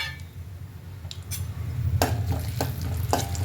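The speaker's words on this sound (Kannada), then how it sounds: "ಸ್ವಲ್ಪ ತುಪ್ಪ ಹಾಕಿಬಿಟ್ಟು ದ್ರಾಕ್ಷಿ ಮತ್ತು ಬಾದಾಮಿನ ಫ್ರೈ ಮಾಡ್ಕೊಳ್ಳೋಣ" Raisins and almonds frying in ghee in a pan, a low sizzle under several scraping stirs and light clinks of a spoon against metal, close and moderately loud.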